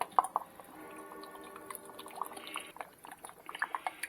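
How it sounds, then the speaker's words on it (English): About three-quarters of a cup of balsamic vinegar poured into a saucepan, giving a steady liquid trickle and splash with a few small clinks, moderately close and without talking. "and pour it in a saucepan"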